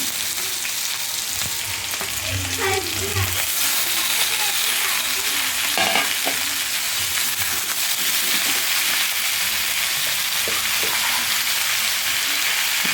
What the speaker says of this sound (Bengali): একটু ভাজা ভাজা হয়ে গেলে